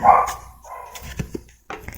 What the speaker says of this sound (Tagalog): Pasensya na sa tahol ng aso.